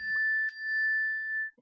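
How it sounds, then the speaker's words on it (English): Mobile phone notification chime, a clear sustained electronic tone with a bright ding partway through, ringing alone in a quiet room and cutting off near the end. "That's my phone."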